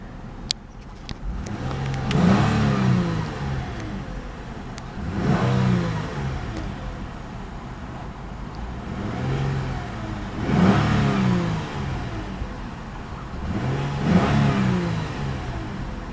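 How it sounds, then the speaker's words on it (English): The engine of a 2014 Lexus IS250 AWD is revved four times at a steady pace. Each blip rises and falls back to a smooth idle, close and moderately loud, with no voices. "And we'll give it a rev."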